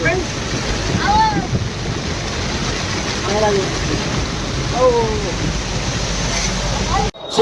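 Strong flowing water rushes in a steady, loud broadband roar while people talk over it nearby.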